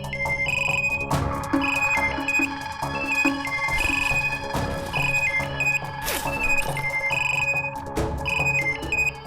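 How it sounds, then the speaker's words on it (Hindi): A phone ringtone plays a repeating electronic melody throughout, with clicks and rustling underneath as if someone is searching. "अरे ढूंढो ना, कहीं बेल बज रही होगी"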